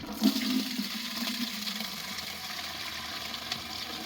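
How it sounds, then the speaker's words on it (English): Diesel fuel drains from the rear end of a 1940 Farmall H tractor, a steady liquid pour with a brief louder gush at the start, then continuing evenly at moderate level, no talking. "So now we're going to go ahead and drain that diesel fuel out."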